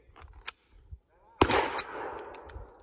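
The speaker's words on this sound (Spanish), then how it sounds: "Vamos a hacerlo en fuego real." A sharp pistol shot rings out with a metallic ring-off as it hits metal, preceded by a few quiet clicks and handling noises of a double-action draw.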